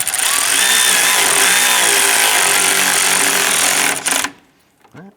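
Power tool driving and snugging a cooling fan mounting bolt on a 2008-2013 Nissan Rogue radiator: a loud continuous buzzing whir for about four seconds that stops abruptly, followed by faint handling noises.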